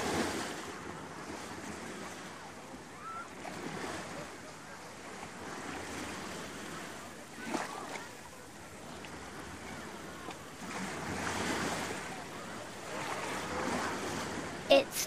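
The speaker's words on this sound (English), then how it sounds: "I love the sound the sea makes as the waves splash onto the sand." Sea waves wash onto sand at the seaside, a soft, continuous surf hiss that swells and recedes gently, with wind noise mixed in.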